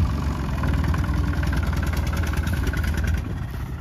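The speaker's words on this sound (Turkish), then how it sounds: "Şimdi arkadaşlar traktörle bu kayayı buradan çekmeyi deneyeceğiz." Tractor engine idling near a large rock it is about to pull, a close, loud, rhythmic low diesel chugging with a knocking beat that holds steady for several seconds before easing slightly at the end.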